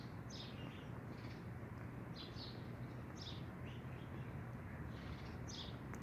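Birds chirping faintly in the background outdoors, a few short high calls scattered over a steady low hum of ambient noise.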